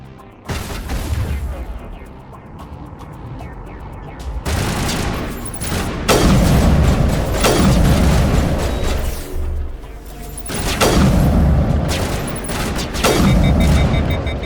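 Gunfire and a grenade blast from combat in the video game Mass Effect 1 Legendary Edition, with dense, loud volleys of shots and heavy booms that repeat in bursts across the whole stretch.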